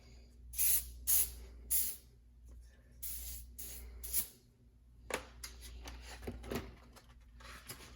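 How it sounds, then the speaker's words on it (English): Several short, sharp bursts of PB Blaster silicone spray hiss onto an RC car up close, followed by quieter handling clicks and rustles. "Again, PB Blaster silicone. And you're just pretty much going to spray."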